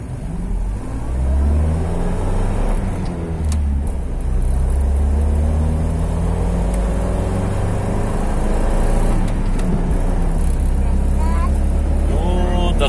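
A GAZ-21 car accelerates hard toward 100 km/h, its engine note rising and falling through gear changes, loud and close from inside with people talking over it.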